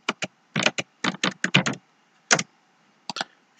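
Typing on a computer keyboard while entering data in a spreadsheet: short clusters of crisp, close key clicks in quick bursts separated by brief pauses, with no voice.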